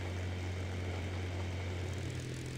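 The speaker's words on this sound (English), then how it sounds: "The buzzing of the plane grew less and less as it waited for the target to leave the tunnel." A propeller plane drones steadily at a distance, a continuous low buzzing hum with no voices, holding fairly even across the short stretch rather than clearly dying out.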